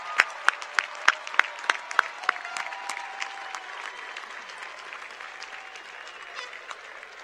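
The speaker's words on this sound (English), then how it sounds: "we say thank you and we applaud you" A crowd at a university commencement ceremony applauds with scattered sharp claps at first that settle into steady, moderate clapping, heard from a little distance.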